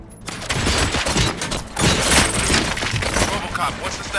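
Gunfire in the Robocop Rogue City video game on PlayStation 5, a loud sustained fusillade of overlapping shots and impacts, with voices talking beneath the barrage.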